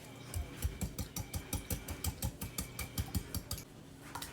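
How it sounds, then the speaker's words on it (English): A whisk beats batter made with brown sugar and pure vanilla in a bowl, giving quick, even clinks and taps in a steady rhythm, close and fairly faint. "Give that a good whisk."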